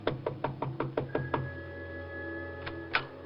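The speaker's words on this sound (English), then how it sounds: "she went over and knocked on the door" A radio-drama door knock on an office door marked private, from a 1950 NBC broadcast: a quick run of about seven crisp raps, then two more scattered knocks, close and clear.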